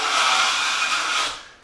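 A steel trowel drags drywall mud across a wall while thinning the third coat, making a steady close scraping rub that runs about a second and a half before fading out.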